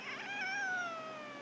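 A single drawn-out cat meow rises and slowly trails downward, fairly faint and alone with no talk around it.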